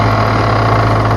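A tractor engine without a live PTO idles loudly and steadily nearby, a constant low rumbling drone with an even mechanical hum and no pauses.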